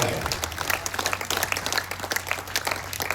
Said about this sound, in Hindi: आप उसके लिए यदि ताली नहीं बजा पाए तो फिर विनीत चांद आप क्या तालियां बजाएं?